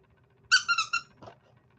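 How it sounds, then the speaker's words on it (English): A dog toy's squeaker squeezed once, giving three quick high squeaks in a row followed by a soft knock, close and fairly quiet. "It's got another squeaker on the other end."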